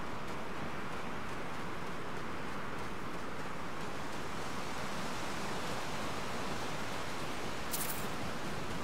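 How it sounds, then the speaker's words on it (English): Waterfalls in Skyrim roar as a dense, unbroken rush of water. The sound is steady and loud throughout, and a faint click comes near the end. "All those waterfalls."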